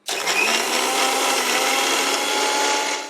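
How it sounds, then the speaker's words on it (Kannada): A mixer grinder blending a homemade energy drink whirs steadily at high speed, a loud continuous buzzing hum that holds for about three seconds before cutting off. "ಈಗ ಇದನ್ನು ನಾವು ಕಂಪ್ಲೀಟಾಗಿ ಮಿಕ್ಸಿ ಮಾಡ್ಕೊಳ್ಳೋಣ"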